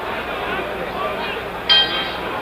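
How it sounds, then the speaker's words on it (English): At a 1966 WBC heavyweight title fight between Ali and Mildenberger, the boxing ring bell clangs once to start round 9. It is a short metallic ding heard over a constant murmur of arena crowd and commentary. "There's the bell for round 9."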